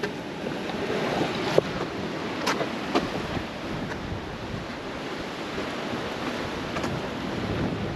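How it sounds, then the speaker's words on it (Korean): Strong wind blows steadily across an exposed seashore at Marado island, a dense rushing roar with faint surf beneath and occasional gusty buffets against the microphone. "바람이 지금 계속 이렇게 불고 있어. 엄청 셉니다, 여기 지금."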